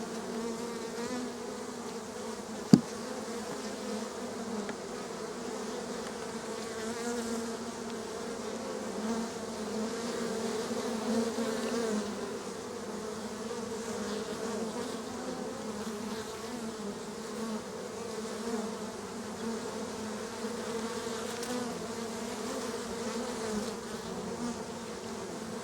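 Honeybees drone in an open beehive with a close, steady, continuous hum that holds at an even level throughout, with one brief tap early on.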